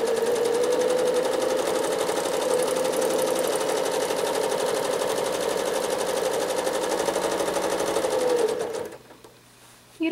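A sewing machine runs continuously at high speed while free motion quilting spiral shapes, a close, steady mechanical whir that cuts off near the end.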